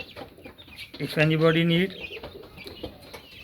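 A Light Columbian Brahma chicken on a Karachi fancy hen farm gives one loud, drawn-out harmonic call lasting under a second, close by, while someone talks before and after it.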